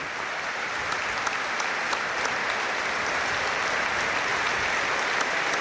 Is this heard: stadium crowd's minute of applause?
yes